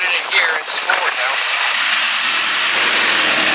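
A power boat's engine runs steadily in forward gear, a loud continuous drone with a person talking over it at the start.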